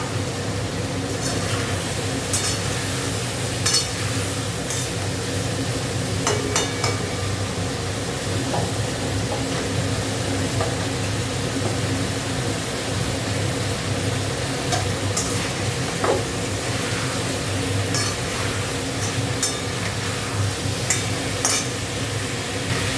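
Green chillies frying and being stirred in a pan make a steady, continuous sizzle under a low kitchen hum, with occasional light clinks and scrapes of the spoon against the metal.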